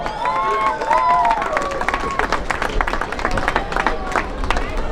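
A large crowd claps and cheers steadily at an award ceremony, dense and loud applause filling the room with babble mixed in.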